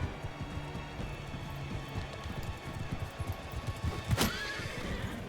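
A horse in the video game Mount & Blade II: Bannerlord whinnies loudly once amid steady clip-clop of galloping hooves, with a faint rainy hiss in the background.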